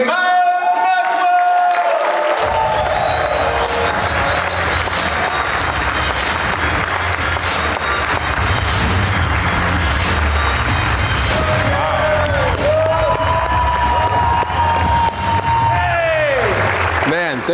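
A large audience applauds and cheers as a keynote speaker takes the stage, loud and sustained throughout, with whoops and voices rising over dense clapping.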